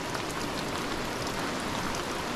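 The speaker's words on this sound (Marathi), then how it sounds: "नैसर्गिक झरे" A natural spring flowing out in the open countryside of Konkan: a dense, steady watery rush and patter that stays close and even the whole time, with no voices.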